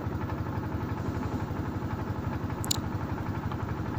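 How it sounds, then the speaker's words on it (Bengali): A trawler boat engine chugs steadily and closely on a clear-water river at Lalakhal, Sylhet, with a loud, rapid, even mechanical thrum and clatter throughout. "তবে ট্রলারের যে শব্দ সেটা খুব বিরক্তিকর লেগেছে আমার"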